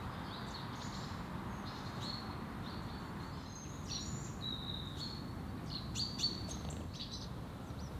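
A coal tit calls with high, thin chirps and short repeated phrases in a city cemetery in Cologne, moderately faint over a steady bed of distant traffic-like noise.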